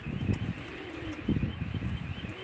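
Game pigeons at a pigeon auction in Ankara coo nearby in low, throaty bursts, two or three rolling calls repeating close together with faint bird chatter between.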